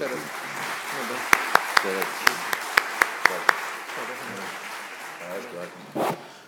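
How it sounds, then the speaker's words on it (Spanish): Around nine distinct, evenly spaced claps ring out at a Spanish-language labor and social security law congress held at a bar association, followed by quieter room noise and a brief thump; no speech over them. "a ambos les agradecemos con un aplauso"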